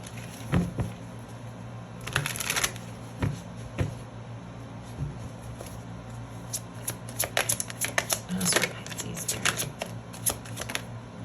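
Tarot cards being shuffled and drawn from the deck, with quick papery riffles and slaps coming in short bursts, close and fairly soft, and no voice over them.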